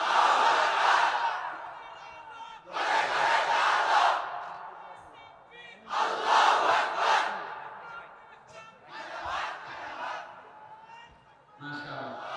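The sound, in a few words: crowd chanting takbir response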